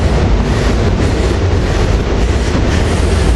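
A SEPTA Silverliner 5 commuter train pulls into Cornwells Heights station at rush hour, a loud, steady, close rumble of wheels and rail noise with faint clatter throughout, no voices.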